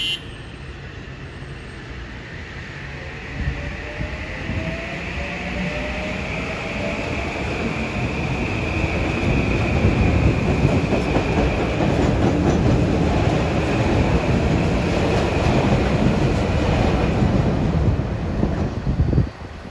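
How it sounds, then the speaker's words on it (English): A short New Haven line commuter train passes through Mamaroneck station at evening rush hour, its rumble building from moderate to loud and close as wheels clatter over the rails, with wind buffeting the microphone and no voices. "Short train. All the platforms on the branch are short."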